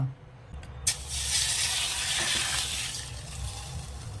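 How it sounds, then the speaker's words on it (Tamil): Oil is poured into a pan while cooking with egg, giving a steady broadband hiss and sizzle after a brief sharp onset, fairly close and continuous throughout with no talk. "கொஞ்சம் எண்ணெய் ஊற்றணும்"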